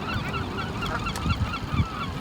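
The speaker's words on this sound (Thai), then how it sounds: "เป็ดหานเต็มเลยค่ะ" A flock of geese honks by a river, a dense, continuous chorus of overlapping nasal calls from nearby birds.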